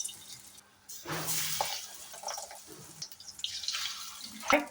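Kolmi shak pakora fritters drop into hot oil and sizzle with a bright, hissing crackle that swells and fades in waves, close and moderately loud, with no talking.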